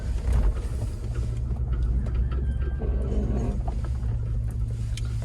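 A Chevy Tahoe rolls over bumps with a deep, steady engine and road rumble heard from inside the cabin, dotted with soft knocks and rattles as it jolts along, and no one speaking.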